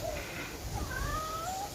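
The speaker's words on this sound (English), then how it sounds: "Do you hear the cat?" A cat gives a few faint, thin meows spread across a quiet indoor-sounding space, each rising call soft and short against low background hum.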